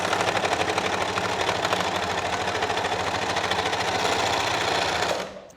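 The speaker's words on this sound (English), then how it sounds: "I'm going to overlock both the side seams, so then I don't have to overlock later" Overlocker finishing the side seams of a lace christening gown, a rapid, steady mechanical stitching chatter running loud and close for about five seconds before stopping abruptly.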